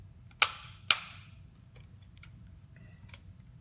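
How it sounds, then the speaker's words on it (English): Takedown pins pushed back into a Tavor X95 rifle during a .300 Blackout conversion: two sharp, close metallic clicks about half a second apart, followed by faint small mechanical ticks. "push your pins back in."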